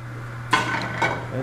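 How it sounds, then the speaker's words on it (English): Metal pans being swirled with olive oil on a stove in a cooking demonstration give two clanking knocks, near and fairly loud, over a steady low hum. "Swirl the pans around. Cover the whole bottom of the pan."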